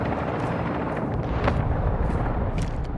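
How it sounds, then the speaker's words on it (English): Cruise missile blast rumbling through a Call of Duty: Modern Warfare II Ground War match, a dense continuous roar of explosions and battlefield noise, loud and sustained with sharper cracks scattered through it. "Friendly cruise missile deployed."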